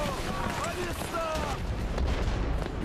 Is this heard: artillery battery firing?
yes